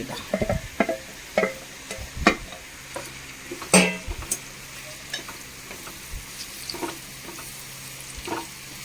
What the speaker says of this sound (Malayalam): അപ്പോൾ അതിലേക്ക് നമുക്ക് ഈ മാങ്ങ ഇട്ട് കൊടുക്കാം നമ്മൾ ഈ നുറുക്കി വെച്ച് മാങ്ങ ഇട്ട് കൊടുക്കുകയാണ്